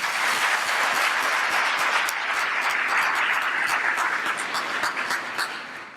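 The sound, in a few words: audience applause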